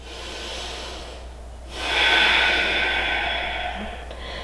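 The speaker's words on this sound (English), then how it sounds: "3 more breaths here." Heavy, deep breathing during a yoga backbend, a long close exhale followed by a louder, rushing breath sustained for a couple of seconds, alone and without talking.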